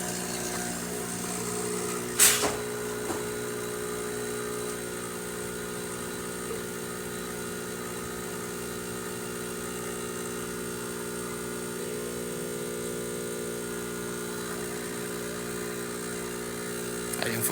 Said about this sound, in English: And now we can do our espresso shot.